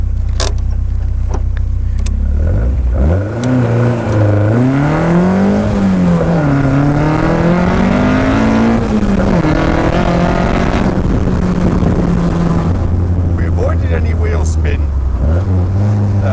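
A GBS Zero sports car idles, then accelerates hard from a standstill through rising engine revs and gear changes, loud and close, before dropping back to idle with someone talking over it.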